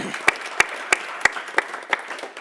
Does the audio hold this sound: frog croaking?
no